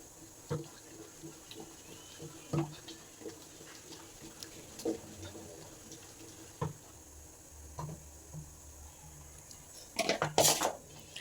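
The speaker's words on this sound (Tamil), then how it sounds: "கடை கடை கடைன்னு ஒரு நாலு சுற்று சுற்றி விட்டுருங்க பருப்பு கடைஞ்சிரும்" Wet, sloshing stirs and clinks of a utensil churning cooked lentils against a metal pot, in short irregular bursts, with a brighter scraping clatter near the end.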